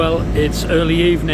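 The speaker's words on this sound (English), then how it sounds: "I am sorry for the engine noise" A low, steady engine rumble from an engine charging batteries runs continuously beneath a person speaking close by.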